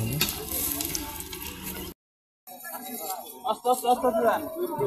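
A large pot of food for a big communal feast is stirred amid sizzling and frying, loud and continuous, then a brief gap of silence followed by clattering stirring with voices talking under it.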